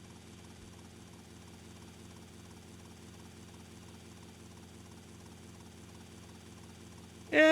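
A helicopter engine in GTA Vice City drones faintly and steadily with a low idling hum, then a sudden loud burst of other sound cuts in right at the end.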